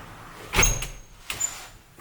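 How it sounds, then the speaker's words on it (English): A door in an abandoned 1960s mansion swings shut with a dull knock and a light latch click, followed moments later by a second softer bump and rattle, nearby in a quiet room. "Close the door behind me."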